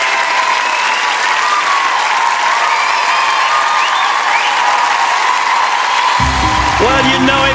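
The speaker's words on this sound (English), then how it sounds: "you know it was good when the audience started applauding before the end" Sustained, dense audience applause fills the arena after an ice dancing performance on the Dancing On Ice TV show, steady and loud throughout, with a faint voice and music creeping in near the end.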